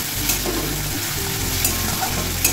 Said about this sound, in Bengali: দিয়ে একটু কষাবো।